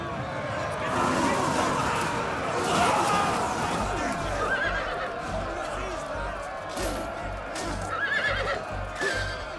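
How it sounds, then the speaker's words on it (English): Horses neigh and hooves pound in a battle in the video game Total War: Rise of Mordor, with Mordorian horse lords charging through a loud, dense mix of combat noise and crowd sounds while a voice talks over it. "We've got some Mordorian horse lords."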